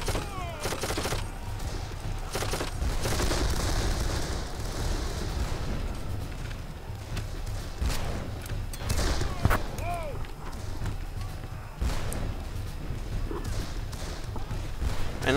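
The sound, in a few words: musket volley fire in video game Darkest of Days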